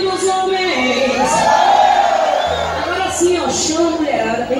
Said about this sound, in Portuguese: Cadê o grito dos homens?